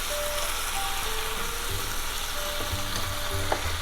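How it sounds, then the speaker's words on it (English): A broth base sizzles in a hot pan after a splash of water is added while cooking spicy string beans with tofu, steady crackling frying with occasional stirring knocks, close and continuous. "Ah, hear that sizzle."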